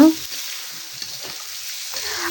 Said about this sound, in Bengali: আমি কিছুক্ষণ ধরে একটু ভেজে নিচ্ছি এ পর্যায়ে দিলাম রসুন বাটা